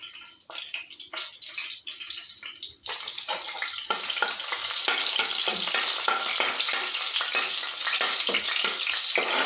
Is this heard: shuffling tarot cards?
no